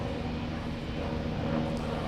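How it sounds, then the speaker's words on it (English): A helicopter flies near an airport, heard as a steady broadband rumble and whir with no clear breaks, moderately loud and alone. "And I hear a whirlybird."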